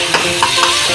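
Garam masala being stirred into a frying masala in a pan: a brief, loud sizzle with a few quick scraping strokes, up close.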